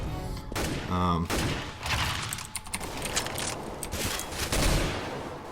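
A Para machine gun fires in the video game CS:GO in rapid, loud bursts mixed with other in-game action noises, with a voice talking at times over the gunfire.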